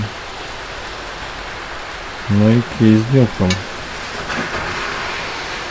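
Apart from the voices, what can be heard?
heavy rain pouring outdoors during a storm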